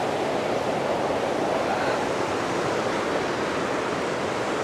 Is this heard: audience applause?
no